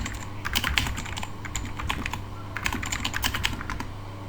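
Quick bursts of keystrokes on a computer keyboard as the ipconfig command is entered, with clustered clicky taps in an irregular rhythm, close and clear, no one talking.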